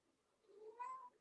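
A pet cat gives a single soft, drawn-out meow that rises and then falls, faint and close in a quiet room.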